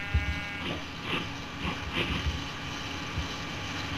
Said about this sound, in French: La gueule, le mouton.